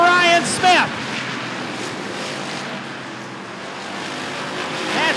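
Race cars at Rockford Speedway in a Roadrunner feature roar past loudly, with a steady engine drone throughout and a sharper pass at the start and again at the end, under a commentator's voice.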